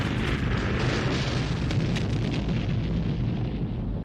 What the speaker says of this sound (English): Oil refinery explosion. Massive.